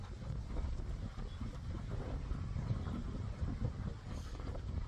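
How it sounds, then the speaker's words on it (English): Steady, heavy wind buffets an outdoor microphone in continuous low rumbling gusts, with no voices for the whole stretch. "So windy."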